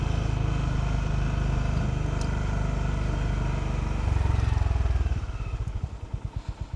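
A Honda GB350 single-cylinder motorcycle ridden on roads in Kagoshima, Japan, its engine a steady close thrum that swells briefly, then drops to a slow, lumpy idle with distinct rhythmic pulses.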